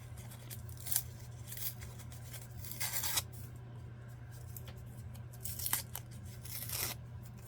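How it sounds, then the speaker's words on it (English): A stamp being peeled off a paper envelope, faint and close, with a few short tearing and rustling bursts spaced out over a quiet background hum. "this stamp, I'm going to peel it off of the envelope the best way I can"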